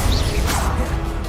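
A Confringo blast spell in the Hogwarts Legacy video game goes off as a loud, dense explosive burst, with a brief swooshing sweep mid-way and a rumbling low-end roar.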